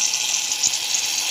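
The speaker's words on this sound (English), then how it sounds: "Our shaving foam is kind of broken." A nearly empty shaving foam can sputters with a steady hissing spray, close and continuous for about a second, with one small pop near the middle.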